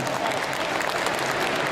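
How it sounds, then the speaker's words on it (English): A short burst of steady clapping from a small crowd at the Discover Dogs 2009 dog show, loud and continuous for under two seconds. "Give Jakey a little round of applause"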